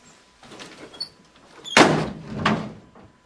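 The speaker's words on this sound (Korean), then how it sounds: "문이 쾅 닫혔다." In an audiobook scene a door is shut hard, with some shuffling movement and a faint creak first, then a loud, sharp slam that rattles and echoes briefly. No voice is heard.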